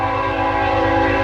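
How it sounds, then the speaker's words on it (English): A train horn blares loud and sustained, a rich chord over the low rumble of the passing train. "Sorry about the train."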